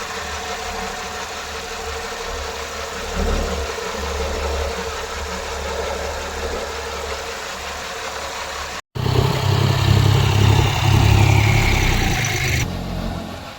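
A tractor engine runs in a groundnut field, a steady low mechanical drone that drops out briefly near the middle and then returns louder and rougher for the last few seconds, with no voices.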